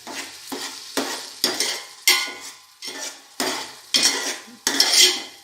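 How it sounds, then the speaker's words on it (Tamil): Onion and tomato masala stirred in a pot for chicken biryani, a ladle scraping and clinking against the metal in about eight rhythmic strokes over a soft sizzle, close and with no talk. "நல்லா தக்காளி வெங்காயத்தோட மெர்ஜ் ஆகிற மாதிரி பண்ணிவிட்டு நல்லா கிண்டி விடணும்"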